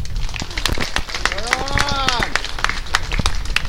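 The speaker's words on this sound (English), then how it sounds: "Let's give them a round of applause" A crowd at a gold medal baseball game between Ontario and Quebec gives the umpiring crew a round of applause. The clapping is steady and dense, with voices and cheers mixed in over the top.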